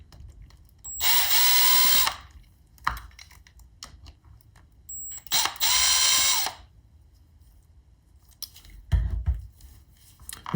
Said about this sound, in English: So we'll remove those two screws.